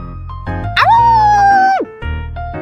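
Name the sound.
dog bark attempt in Love and Deepspace video game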